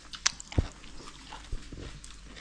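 A few crisp crunching bites of stir-fried asparagus close up, irregular chewing with short pauses, fairly quiet and without talk.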